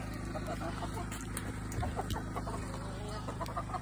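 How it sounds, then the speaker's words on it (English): A chicken squawks and clucks repeatedly at bedtime, impatient for its food, close by amid steady farmyard background noise. "While this chicken freaks out because it wants its food."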